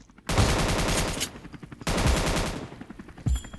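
Automatic gunfire in the mobile battle royale game Scarfall, two long loud rapid bursts back to back, then a brief final shot, with no talk.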